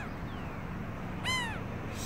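A pair of birds calling and squabbling, heard as one short, harsh, rising crow-like call over a steady background hiss.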